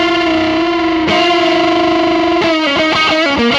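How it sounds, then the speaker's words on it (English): Electric guitar through a Kingsley Maiden valve preamp pedal set for a smooth Dumble-style overdrive, sustaining a long singing note before a quick run of picked notes, loud and close with a touch of echo. "now that's that really smooth overdrive that I was talking about."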